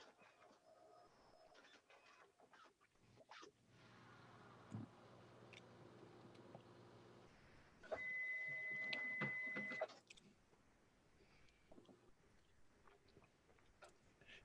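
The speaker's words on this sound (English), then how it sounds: "it should be printing for you any second now." A dye sublimation photo printer runs through a print, giving a steady mechanical whir with faint ticking, then a louder sustained electronic tone for about two seconds before the machine quiets.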